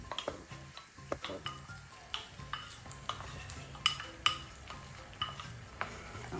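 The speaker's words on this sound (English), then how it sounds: "And we stir" A spoon scrapes and clinks against a clay pot as jollof rice is stirred into fried tomato paste, with soft irregular knocks and taps, fairly quiet and close.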